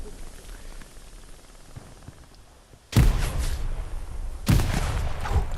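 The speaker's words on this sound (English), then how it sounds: "Nice nades." Two sudden loud blasts in Hell Let Loose, each a sharp broadband boom with a rumbling tail, arrive about a second and a half apart after a stretch of quiet background battlefield noise; they read as grenade explosions fairly close by.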